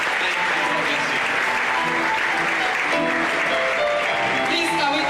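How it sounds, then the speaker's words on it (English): An audience at an optometry oath-taking and induction ceremony applauds with loud, sustained, even clapping that fills the room without a pause. "can we give our lecturer today another round of applause?"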